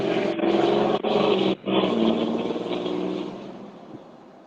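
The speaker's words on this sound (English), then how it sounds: "Listen how loud my truck is." A loud truck engine revs hard up close, roaring in strong surges broken by two brief drops, then slowly fading as it winds down.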